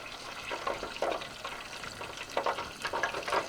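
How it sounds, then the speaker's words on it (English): Soft, steady crackling and sizzling of pork wontons frying in hot oil, with occasional louder pops and bubbling bursts. "these are frying up real good"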